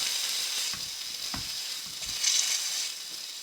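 Bacon frying in a pan on a cooker, a steady close sizzle with soft scraping and clinking of utensils, no voices.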